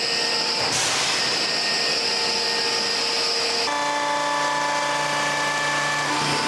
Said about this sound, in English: In the extruder, all the material with the additives gets mixed together.